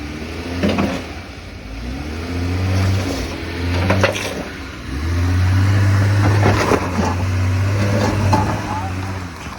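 The engine of a stuck car revs in two long, rising surges with a low growl beneath, heard close while people talk over it.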